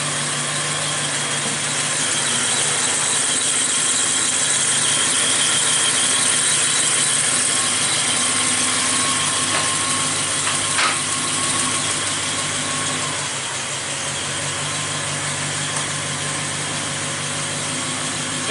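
A Triumph Stag car engine runs on its first start, a loud, steady idle with a continuous droning hum and a faint whine, close by and without talk.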